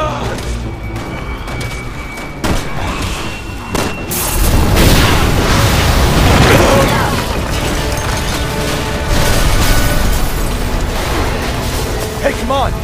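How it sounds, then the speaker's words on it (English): A gas explosion set off by gunfire in the Resident Evil 6 video game, a loud booming blast around four seconds in that rolls on as crashing, rumbling debris and continued noise under game sound. "Shoot the gas! We can blow these things to kingdom come!"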